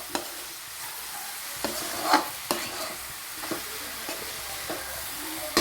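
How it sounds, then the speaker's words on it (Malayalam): Beef fry with chili powder is stirred in a hot pan. A continuous sizzle carries a series of close scraping strokes and occasional sharper knocks of the spoon, with no talking. "ഇത്രയും കൂടി ഇട്ട് നല്ലതുപോലെ ഇളക്കുക"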